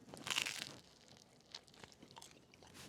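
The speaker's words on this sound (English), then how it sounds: "Hopefully you guys can hear some nice crunch there." A bite into the crust of a pizza from a wood- and charcoal-fired portable oven gives a sharp close crunch, followed by quieter chewing crunches, with no talking.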